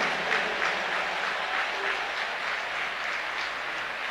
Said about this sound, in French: Let's de put our hands gratitude together à for notre the Seigneur Lord.